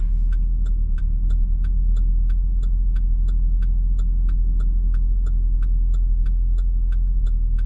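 A 600 hp Cadillac CTS-V idling as it warms up, a deep steady low rumble with a faint regular ticking on top, close and constant without talk.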